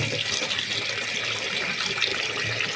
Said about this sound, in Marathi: थंड पाण्याने धुवून घ्यायची